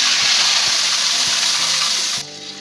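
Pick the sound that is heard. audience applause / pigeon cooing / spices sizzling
spices sizzling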